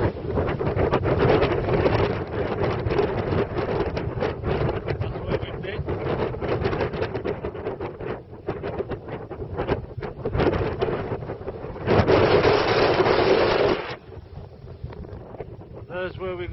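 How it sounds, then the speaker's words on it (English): Strong wind in the Ennerdale Valley buffets the microphone in a constant roar, swelling into a louder gust near the end, with a voice talking faintly underneath. "it's bloody windy"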